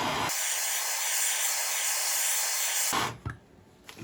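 Gas torch heating a rusted half axle to free its outer race, a loud continuous roaring hiss for nearly three seconds that cuts off abruptly, followed by faint clanks.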